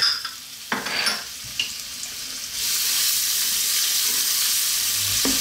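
Black pepper, chopped garlic and ginger hitting hot oil in a pan with star anise for beef and broccoli: a few sharp clanks and stirring scrapes, then a loud, steady sizzle rising and holding close to the end, no voices.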